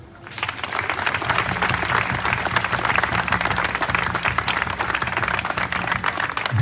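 An audience at the opening of a funfair in Biganos claps loudly and continuously after an official's speech, a dense, even wash of hands sustained for several seconds.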